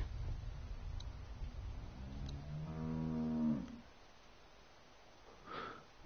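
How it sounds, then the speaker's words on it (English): A cow in The Walking Dead video game gives one long, close, drawn-out moo midway. Low rustling ambience fills the space before and after it. "That's a cow."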